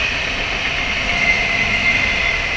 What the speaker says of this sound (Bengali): ট্রেন চলাচল ইতিমধ্যেই স্বাভাবিক হয়েছে